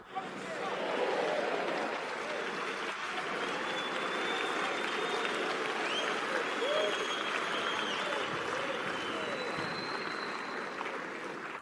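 A large church crowd at a Harvest House gathering in Zimbabwe applauds continuously, a dense sustained roar of clapping with murmuring voices underneath, steady and even from start to finish.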